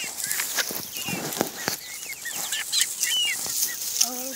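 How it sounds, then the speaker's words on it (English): Chickens clucking and squawking close by, with scattered sharp clucks, rustling and brief wing flaps amid a busy, noisy background. "Oh, chickens."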